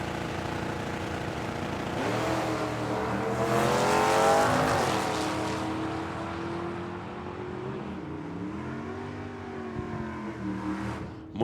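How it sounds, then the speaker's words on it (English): Ford Maverick and Ford Mustang drag racing down a strip at a drag racing event, engines revving and roaring as they pull away, swelling to a peak then fading into a lower, more distant drone. "The Maverick is Brandy. The Mustang is Melissa."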